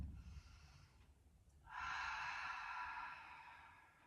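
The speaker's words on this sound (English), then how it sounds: "Full breath." A deep, full yoga breath: a faint inhale followed by a long, steady, breathy exhale that fades gently, quiet and close in a calm room.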